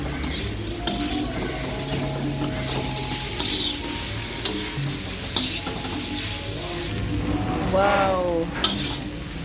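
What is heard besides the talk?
stir-frying wild fiddlehead ferns in a pan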